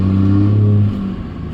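A 4th gen Cummins diesel truck with a 2nd gen turbo swap, manual, towing an empty enclosed trailer, pulls away with a loud low engine drone that holds steady, then drops off as it shifts.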